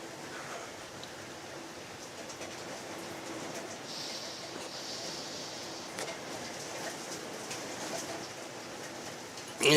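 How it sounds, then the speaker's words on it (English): Steady rain pours as an even hiss, with faint bird calls in the background and a sudden louder rush right at the end. "It's raining, it's pouring."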